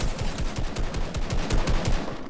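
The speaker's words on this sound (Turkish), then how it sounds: "Buradan silah sesleri geliyor." Rapid automatic gunfire in the video game Fortnite, a steady stream of evenly spaced shots rattling on for over two seconds, loud and continuous with no talking.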